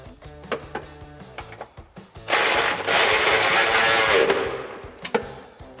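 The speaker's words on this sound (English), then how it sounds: "Bolt in your middle hanger, again using your 13 millimeter socket." A ratchet driving a 13mm socket tightens the middle hanger bolt on a 2005-2010 Mustang GT axle-back exhaust, heard as a sustained burst of rapid close clicking lasting about two seconds, set between scattered lighter taps and clinks.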